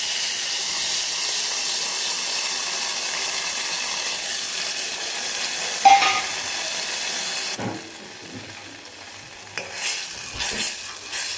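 Tamarind is tossed into hot oil in a pan and stirred, giving a steady, bright sizzle with a brief clatter partway through, then quieter scraping and intermittent crackles as the frying settles.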